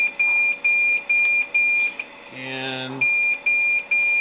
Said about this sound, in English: it's going to have alarms here because of low minute volume having been disconnected for a little bit